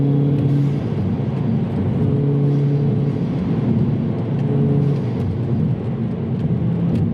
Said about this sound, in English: I'll fourth gear, we'll do a pull now.